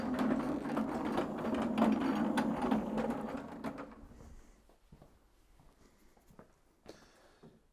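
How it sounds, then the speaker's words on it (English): An IPC Eagle CT5 micro scrubber, a compact floor-cleaning machine with a 15-inch brush and 1.5-gallon tank, runs with a buzzing, whirring motor for about four seconds, then winds down, leaving quiet clicks and light handling noises. "The CT5, again, is a micro scrubber, we call it."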